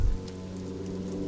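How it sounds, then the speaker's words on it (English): Steady rainfall over the city streets of Revachol in the video game Disco Elysium, a constant soft hiss of drops on surfaces with no voices, following a brief low thump at the start. "All around you, rain falls on the great city of Revachol."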